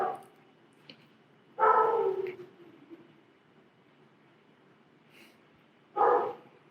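Dogs, including two males, give two short bursts of excited barking at close range while hoping for a share of food, with quiet gaps between the barks.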